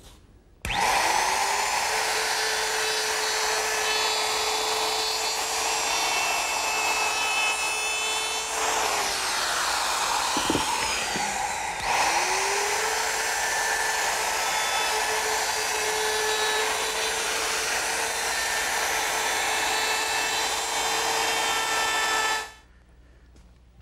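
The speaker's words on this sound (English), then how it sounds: "Next, I want to chamfer all the outside edges." A power tool chamfers the outside edges of a wooden window sill for a playhouse, giving a loud, continuous high whine for about twenty seconds with a short dip midway before stopping abruptly.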